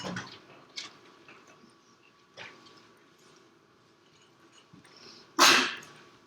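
A single sharp sneeze bursts out loudly near the end, after a stretch of quiet room noise with a few faint clicks.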